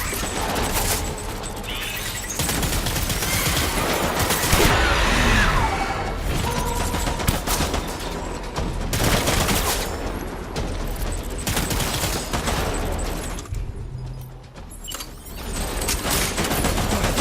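Gunfire in the video game Death Stranding rattles in dense, continuous fusillades. Loud overlapping shots and mechanical clatter fill the stretch, with only a brief dip near the end.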